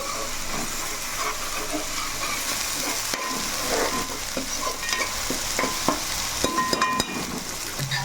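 A spoon scrapes and stirs a thick spice paste for fish curry around a sizzling pan, with repeated clinks and scrapes over a constant frying hiss.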